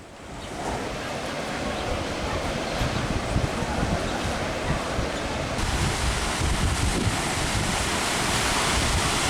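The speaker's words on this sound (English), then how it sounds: "I had a real good time just watching the waves roll in. It was a really windy day" Ocean surf rolls in on a windy day near Kåseberga on the Swedish coast, a continuous rushing wash of waves mixed with heavy wind buffeting the microphone.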